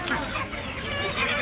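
Kadaknath chickens clucking in a busy poultry market, a dense continuous layer of close, overlapping hen calls with crowd chatter mixed underneath.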